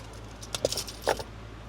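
A truck's ignition key turns with a brief metallic jingle of keys, two short clusters of clinks in an otherwise quiet cab.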